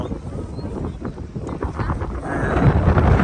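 Strong wind buffets the microphone in a steady low roar at the overflowing Machhu-2 dam, growing louder toward the end, with faint indistinct voices beneath.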